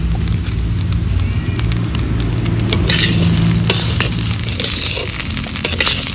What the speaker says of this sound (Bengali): টমেটো আর চেরা কাঁচা লঙ্কা দিয়ে একটু ভেজে নিয়েছি